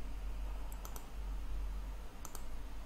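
A few sharp mouse clicks at a computer, a double click near the first second and another pair near the end, faint over a steady low hum with no talking.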